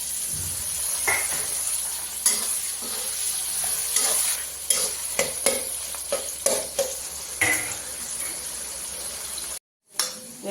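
Tomato is tossed into fried onion in a pan and stirred, close sizzling under repeated sharp spatula scrapes and clinks, followed by a brief silence near the end.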